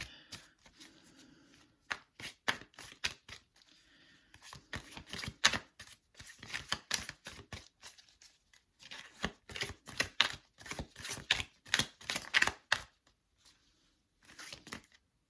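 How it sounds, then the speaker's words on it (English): Tarot card decks are shuffled by hand in repeated quick bursts of riffling and snapping, close and crisp, separated by short pauses over about fifteen seconds, with no speech. "I shuffle my decks like off camera, and then I do it on camera so everybody knows"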